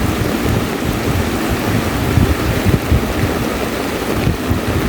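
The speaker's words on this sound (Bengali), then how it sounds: "বৃষ্টির দিনে বৃষ্টি পড়ার শব্দটা কেমন হয় সেটা একবার শুনুন।" Heavy rain pours down on a rainy day, a dense, loud and continuous wash of sound, with rumbly, gusty low noise that could be wind hitting the microphone.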